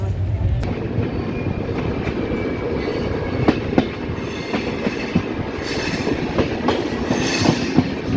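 Double Decker Express train running on rails between Delhi and Jaipur, with a loud continuous rumble, rhythmic wheel clicks, and occasional squeals heard from on board, without talk.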